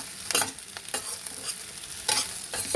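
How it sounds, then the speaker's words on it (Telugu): Soya manchurian fries in a pan, giving a soft continuous sizzle broken by a few brisk scraping stirs of a spatula, heard up close with no talking. "ఇలా వేసుకొని ఒక్క 3 మినిట్స్ వేయించుకుంటే మన రెసిపీ రెడీ అయిపోయిందండి"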